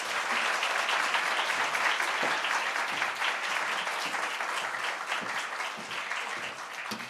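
A church congregation at a Sunday service applauds to welcome an elder to the front, in loud, dense, continuous clapping. It holds steady for about seven seconds and tapers slightly at the end.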